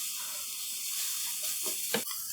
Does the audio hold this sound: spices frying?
yes